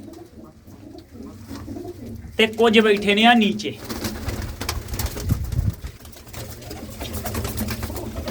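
Pigeons coo in a loft, a loud, close burst of throaty warbling rising partway through, with people talking over steady background noise.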